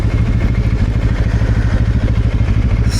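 BMW R1300 GSA boxer-engine motorcycle under way, a loud, close, steady low engine drone with a rapid pulsing beat and rumble throughout, no voices.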